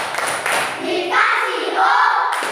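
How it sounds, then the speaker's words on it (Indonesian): Fifth-grade children in an Indonesian classroom doing the rhythmic 'tepuk wow' clapping chant, with chanting voices and scattered hand claps mixed together in a lively burst. "Kita kasih tepuk wow dulu nak. Tepuk wow."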